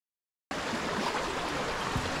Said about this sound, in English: So the creek is quite swollen, and you have to wade through the water to get on the bridge